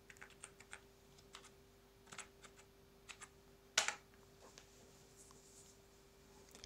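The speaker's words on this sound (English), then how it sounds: "I type my password" A password is typed on a computer keyboard, giving soft, close, irregular key taps in short bursts with one sharper clack partway through, faint against a quiet room with a steady hum and no talking.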